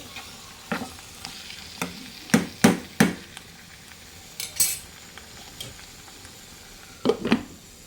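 A ladle stirs chicken curry in a pot, giving a series of sharp metallic scrapes and clinks over a faint sizzle. The clinks are scattered irregularly, with a cluster around the two-to-three-second mark and another near the end, and no talking.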